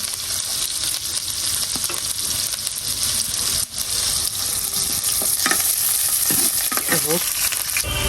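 Whole dried chillies fry and sizzle in hot oil for a dal tempering, a steady bright crackle with scattered pops and a spoon stirring through it, close and continuous with no talk.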